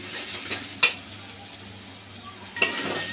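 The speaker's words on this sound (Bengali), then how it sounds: "ভালো করে একটু ভেজে নিই।" Prawns frying in spices in a pan while cowpea and coconut bhorta is being made; a low steady sizzle runs throughout, punctuated by two sharp scraping clinks of a spatula against the pan.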